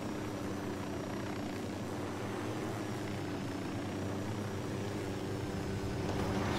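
A helicopter in the Ghost Recon video game descends to land in bushes, its rotor drone steady and loud throughout, with a low rumbling whine that swells slightly near the end.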